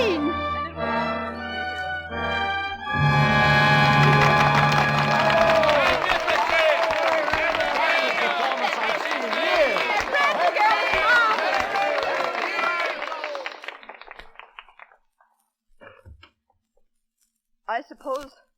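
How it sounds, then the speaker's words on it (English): A studio audience at a Lux Radio Theater broadcast of Stage Door breaks into loud, sustained applause after a stretch of dramatic dialogue, clapping swelling and then fading out, followed by a few faint sounds and a voice. "I'm grateful for your applause"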